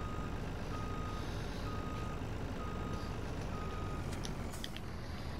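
Reversing beeps from a semi truck backing up to hitch a trailer in Farming Simulator 19, a steady evenly spaced series of tones over a constant low engine rumble, with no talking.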